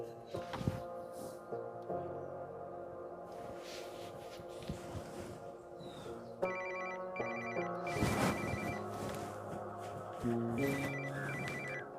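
A phone rings with a repeating electronic tone pattern, several bursts of bright, melodic ringing recurring over about twelve seconds alongside other background sounds, with no talking.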